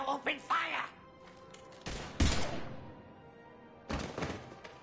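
Mass Effect 3 firefight with a voice shouting briefly at the start, then separated heavy gunshot blasts and thuds, a couple of loud close bursts spaced over several seconds with quiet gaps between.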